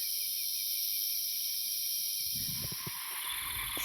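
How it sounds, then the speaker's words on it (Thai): Small frogs call at night after rain in the wild, a dense steady chorus of high trilling over soft rumble, with faint clicky croaks joining in the last second and a half. "เสียงเขียดพี่น้อง"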